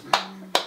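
Andrew claps his hands twice, close and sharp, the two crisp claps about half a second apart with a faint hum underneath.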